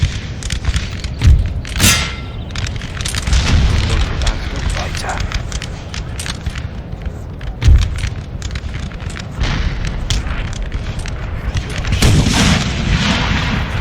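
Cannon and artillery fire booms through a Napoleon: Total War battle, several loud heavy blasts spaced across the stretch over constant crackling musketry and battlefield din.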